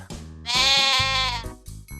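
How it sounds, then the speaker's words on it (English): A sheep bleats once, a loud, close, wavering baa lasting about a second, set against a soft plucked children's melody. "A sheep makes a baa sound."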